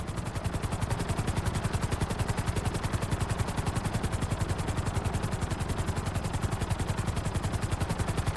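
A helicopter flying in Grand Theft Auto 5, its rotor chopping in a fast, even, steady pulse that holds loud and close for the whole stretch, with no talking.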